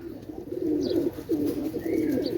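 Pakistani high-flying pigeons coo softly at close range, two or three low rolling coos with short pauses between them, with a faint chirp in the background.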